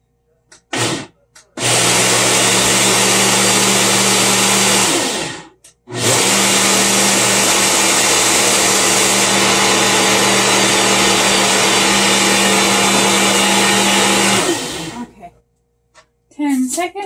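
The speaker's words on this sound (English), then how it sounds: "On the blender." Kitchen blender whirring loudly while mixing a shake, running in two long steady bursts with a brief pause between them, close by.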